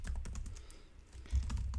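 Rapid keystrokes on a computer keyboard while entering network interface addresses in a configuration tutorial, a quick irregular patter of light clicks, close and fairly soft, with no talk over it.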